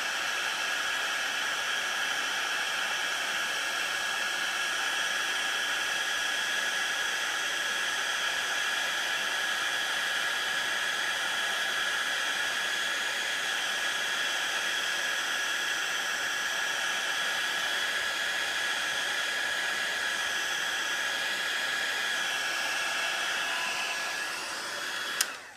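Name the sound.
heat tool melting embossing powder on a Christmas tag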